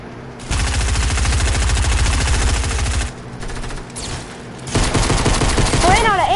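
Rapid automatic gunfire in Fortnite, a dense burst of fast repeated shots, a short lull, then another loud sustained volley with game effects sweeping over it.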